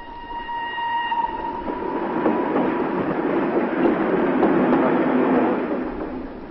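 A train rumbles steadily along the tracks, with a sustained tonal whine early on and faint rhythmic clatter throughout, fairly close and loud.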